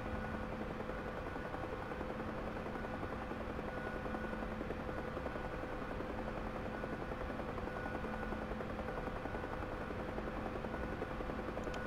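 A helicopter in the DCS flight simulator drones steadily, its rotor and engine making a constant, even hum with faint tonal whines, unchanging throughout and with no other sounds.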